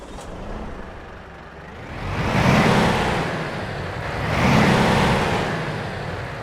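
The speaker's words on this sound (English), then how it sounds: "let's get our Volvo started up and get on the road" A Volvo truck in Euro Truck Simulator 2 starts up and pulls away: a steady low engine rumble swells twice as it accelerates, then eases back, close and continuous with no talk.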